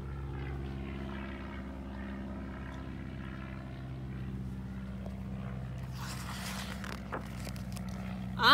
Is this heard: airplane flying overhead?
yes